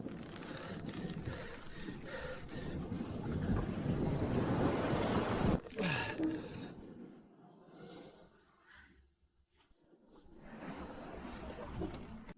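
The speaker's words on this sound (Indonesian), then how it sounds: "Anginnya makin kencang." Strong wind roars over surf and open water near a boat, swelling into heavy gusts, dropping briefly to near quiet, then rising again.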